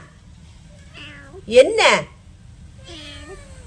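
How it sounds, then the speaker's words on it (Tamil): Kitten meowing in a village setting, a loud rising-falling cry in the middle with fainter mews before and after, a person speaking briefly alongside. "பூனைக்குட்டியோட சவுண்டை பார்த்தீங்களா?"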